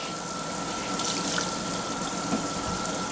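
Water runs steadily from a tap into a kitchen sink during cleaning, a constant close rushing splash with a faint hum and no talking.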